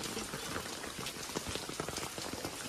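Steady rain pattering on surfaces around an outdoor cooking spot, a dense continuous patter of drops with no voices, fairly soft and even throughout.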